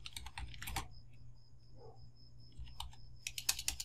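Typing on a computer keyboard while writing a first C program, heard as two bursts of rapid close key clicks with a quieter pause between them, over a faint steady electronic whine and no talking.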